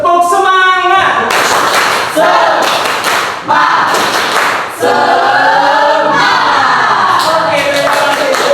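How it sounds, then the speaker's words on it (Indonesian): A group of students in a school session at SMA Negeri 1 Petungkriyono claps a rhythmic cheer pattern, with loud bursts of claps alternating with chanting voices throughout. "Oke, tepuk semangat."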